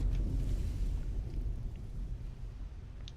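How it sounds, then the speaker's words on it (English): A low, rumbling surge of water floods an enclosed room in Skyrim, a dense roaring wash that fades slightly toward the end, heard alone without talk. "this place filling with water is not a good thing"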